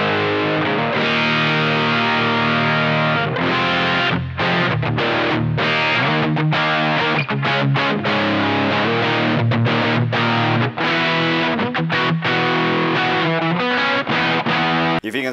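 An electric guitar played through a T-Rex Mudhoney II distortion pedal rings out loud and thick with heavy saturated chords, sustained and broken by short choppy stops and restarts, with no voice over it.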